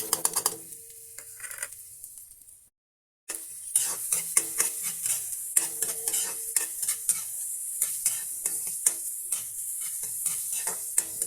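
Garlic and onion sauté in a little cooking oil for a home-cooked ginataang gulay, a steady close sizzle with frequent scraping stirs and utensil clicks after a brief silent gap near the start.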